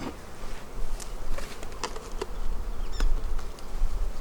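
Honey bees buzz loudly and densely as they are shaken into a nuc box in a bee yard, a close swarming drone with scattered sharp taps and knocks.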